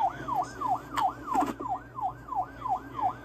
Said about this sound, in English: Oh my god, that's a siren.